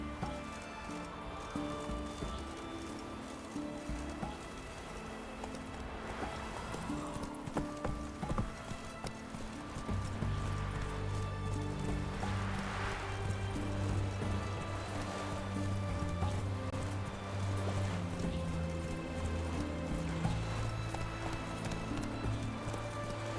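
Horse hooves clip-clopping in The Witcher 3 video game, a steady run of hoofbeats under continuous background music and ambience, moderately loud throughout.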